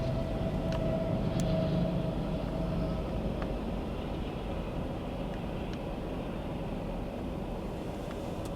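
A big CSX freight train rolls past during a snowstorm, a loud, continuous low rumble and rattle of railcars that holds steady throughout, with faint metallic clicks scattered on top.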